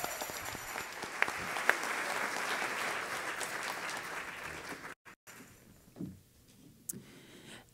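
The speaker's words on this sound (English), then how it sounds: "Make sure everybody gives a round of applause to the back over there" An audience at a lecture and concert claps in sustained applause that swells and then thins out, with scattered claps and faint voices as it dies away.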